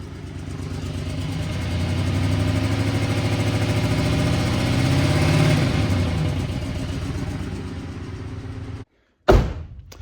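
A GMC Sierra truck engine idles roughly, a close, steady low rumble with uneven pulsing that swells slightly in the middle, then cuts out briefly before a sharp burst of noise.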